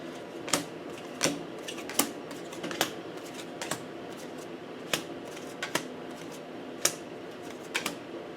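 Cards riffle and snap repeatedly in short bursts, about once a second, close by with a steady hiss underneath and no talking.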